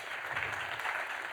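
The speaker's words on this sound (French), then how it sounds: "vous pouvez applaudir." Audience applause at a panel debate, a brief dense wash of clapping from many hands, steady and moderately loud for just over a second.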